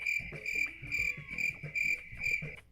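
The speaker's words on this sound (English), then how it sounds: "Yeah, actual crickets." Crickets chirping as a comic sound effect, a steady stream of high, pulsing chirps in regular bursts over a soft low murmur, close and clear with no talking.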